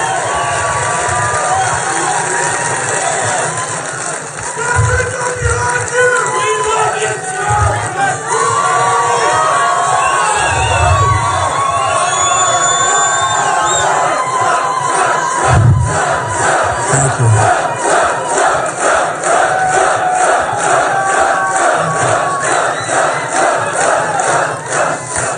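A large rally crowd in Las Vegas roars with sustained cheering, shouting and applause, loud and continuous throughout, with a voice faintly speaking underneath.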